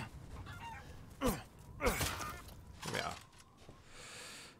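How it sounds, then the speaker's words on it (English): A chicken in the video game Resident Evil Village, a few sharp squawks and clucks spaced about a second apart over low game ambience, ending in a brief hiss. "Give me that chicken, chicken. I want that sweet chicken."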